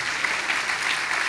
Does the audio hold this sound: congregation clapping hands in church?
yes